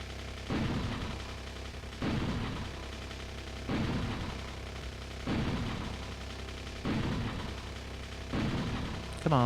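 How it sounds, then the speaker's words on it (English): Personal defense systems in Factorio fire at enemies in six evenly spaced, fairly quiet bursts roughly every second and a half over a low steady background hum. "my personal defense systems are firing like crazy"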